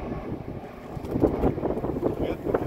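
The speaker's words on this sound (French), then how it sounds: "il y a peut-être un peu de vent" Gusty wind buffets the microphone with a low, rough rumble that grows slightly stronger toward the end.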